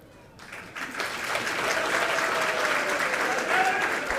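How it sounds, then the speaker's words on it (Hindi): Sustained applause from a seated audience at a Jain monk's religious discourse, rising quickly after a quiet start and holding steady as a dense, continuous clapping wash. "तुम लोगों ने तालियां बजाई।"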